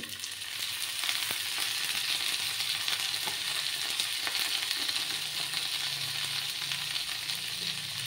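Two boiled potatoes fry in a hot pan for an Indian dhaba-style spicy potato masala, giving a loud, steady, even sizzle throughout with no talking.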